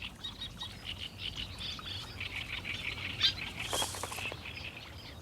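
A warbler sings in reed beds along the River Fal on the south Cornish coast, giving quick, bright chirping phrases that repeat steadily over a soft background of patter and insect hum, fairly close and clear.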